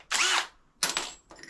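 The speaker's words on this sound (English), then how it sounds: "we've got to drill a hole." Two short bursts of a power drill whirring while drilling a hole for an under-seat fuel tank on a BMW adventure motorcycle, the first longer and louder, followed by a brief fainter spin-up.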